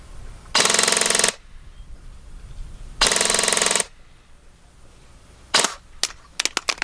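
G&G Cobalt Kinetics BAMF airsoft gun on an 11.1 LiPo firing full auto, two sustained buzzing bursts under a second each, then several quick short bursts and single snaps, all close and loud.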